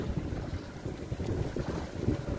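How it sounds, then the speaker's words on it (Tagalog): Rough seas at a fish pen on open water, with steady broadband wind rush and churning waves buffeting the microphone, loud and continuous throughout with no voices. "sobrang alon ngayon"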